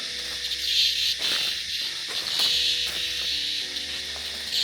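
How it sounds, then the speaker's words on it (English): Loud, steady cicada buzzing from a tree full of cicadas fills the air, a dense high drone with slight pulsing, close by, while occasional rustles and faint movement sounds pass underneath, on a bush hike on the New South Wales Central Coast. "If you're wondering why cicadas are so bloody loud, look at this."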